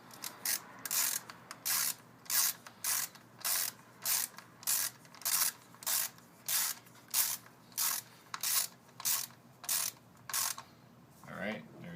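A ratchet with a 10mm socket turns a bolt on a 2008 Kia Optima, giving a steady run of about fourteen evenly spaced, close clicking bursts with no talk over them.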